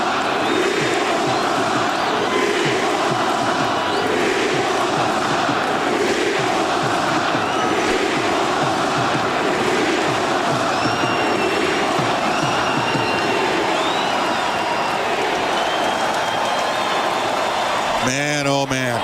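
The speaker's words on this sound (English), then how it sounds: "There's the chant again. Let's hear it." An Edmonton Oilers hockey crowd in the arena during a playoff Game 6 against the Dallas Stars, chanting as a sustained loud roar with rhythmic pulsing swells throughout.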